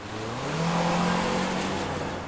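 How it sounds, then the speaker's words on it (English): A 2013 Acura ILX 150-horsepower engine revs up and climbs in pitch, loud and close, then eases back down, with no voices. "It revs freely and it does not get noisy in the process."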